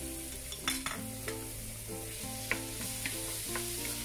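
Marinated beef for beef broccoli with carrots sizzling in a pan, a steady frying hiss with a few close clinks and scrapes, and a faint tonal background hum alongside.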